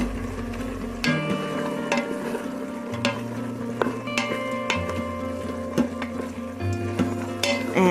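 Steady sizzling fills the clip as baked soya chunks are stirred into hot spinach rice, with repeated sharp clinks of a utensil on the pan, loud and close, and no voices.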